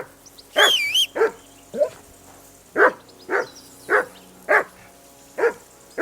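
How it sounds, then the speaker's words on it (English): A dog barks in Kingdom Come: Deliverance 2, a loud series of about eight sharp barks at a steady, slightly uneven pace, alone without talk. "Whistle at that mutt of yours to stop barking!"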